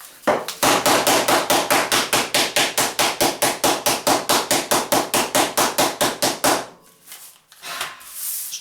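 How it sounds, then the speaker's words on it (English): A meat hammer pounds chocolate bars for brownies in rapid, steady strikes, roughly two dozen loud close thuds in even rhythm, then stopping abruptly before some light rustling. "Do what I do. Meat hammer."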